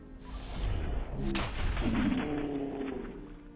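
Gunfire from a World War II pistol added by a mod to the video game Fallout 4: a couple of sharp, booming shots in quick succession with a ringing tail, loud and close.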